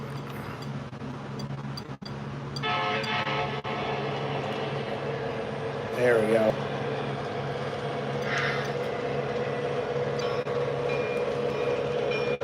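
A Train Master model train engine, number 87, running steadily with a low rumbling drone and rhythmic rail clatter, a brief squeal partway through, and a short spoken phrase near the start.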